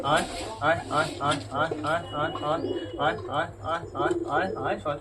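Pigeons coo in soft, repeated throaty rolls, close by and steady in rhythm, with a person's voice speaking among them.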